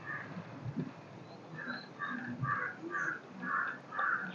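Crows caw in a repeated series of harsh calls outdoors, moderately close, with no talking over them.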